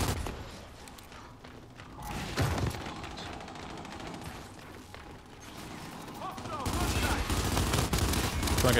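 Gunfire rattles through a Gears 5 multiplayer match, with bursts of automatic fire and crashing impacts that build louder toward the end under mixed game noise and occasional voice.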